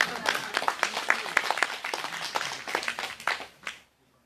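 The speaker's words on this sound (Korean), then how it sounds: "이거 박수 한번 쳐야 되는 거 아니에요?" A crowd at an outdoor Wednesday rally in Soseong-ri claps together in a burst of fairly distinct, quick claps that thin out and stop abruptly near the end.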